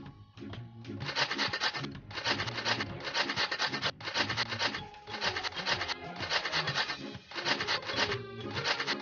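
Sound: grating cheese in Masha and the Bear pizzeria video game

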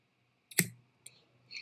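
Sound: scissors cutting hair

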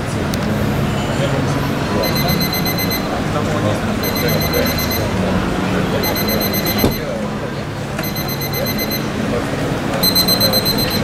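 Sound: alarm clock wake-up alarm

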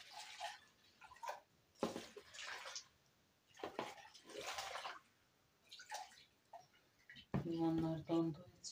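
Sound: water poured in to dilute strawberry lemonade

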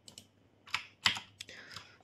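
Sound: typing code on a computer keyboard

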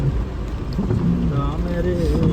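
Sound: rain

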